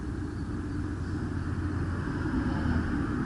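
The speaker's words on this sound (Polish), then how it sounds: "tylko samochody z autostrady hałasują" Cars on a nearby motorway at night make a steady low rumble of passing traffic, heard at a moderate distance with no talking.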